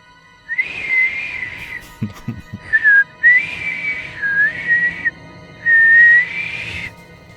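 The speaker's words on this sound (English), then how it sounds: "Fergus has taught me how to whistle. Just listen to this." A video game character whistles a short melodic tune in several clear phrases, loud and close, with brief pauses and a few soft knocks between them.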